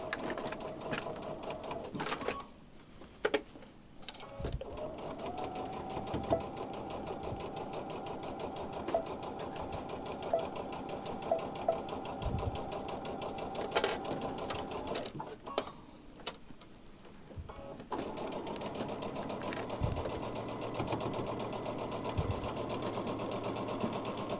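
A sewing machine stitches a quilt border in bursts of steady running, stopping and restarting several times with soft handling clicks between runs.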